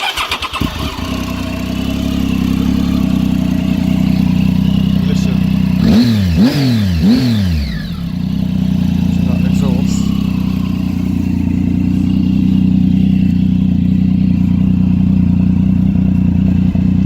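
A Triumph Tiger 800 XRx motorcycle engine idles loudly close by on its stand, then revs in three quick blips before settling back to a steady, throbbing idle.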